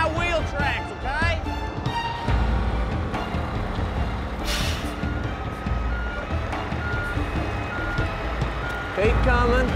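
A reversing military vehicle sounds steady repeating backup beeps over a low engine rumble and air brake hiss, with someone talking over it.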